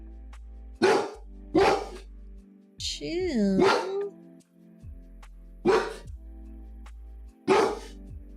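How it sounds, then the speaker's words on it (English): Dogs bark in sharp single woofs spaced a second or so apart indoors, loud and close, with a person speaking briefly between the barks. "the doggos are barking at, I think, an Amazon person"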